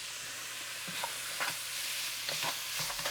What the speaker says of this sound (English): I'm gonna put the beef in now. Okay, just get a nice little saute on that.